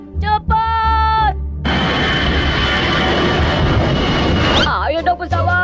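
An airplane engine roars steadily for about three seconds in an animated comedy series, with a character's voice heard before and after the roar.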